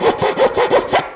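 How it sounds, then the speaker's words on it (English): A quarter-inch chainsaw file rasps back and forth to elongate a hole in wood, making six rhythmic, evenly spaced scraping strokes, close and fairly loud. "I have a little 1/4 inch. Basically, it's a chainsaw file."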